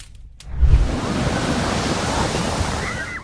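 Roaring waves at Reynisfjara black sand beach in Iceland: a heavy thump as surf breaks, then a loud, sustained wash of foaming water rushing up the shore, with wind noise over it.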